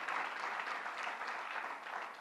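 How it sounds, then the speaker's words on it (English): Applause from a crowd at a political rally on reproductive rights in Yonkers, a continuous wash of clapping held at a steady level that eases slightly toward the end. "you can give that a round of applause"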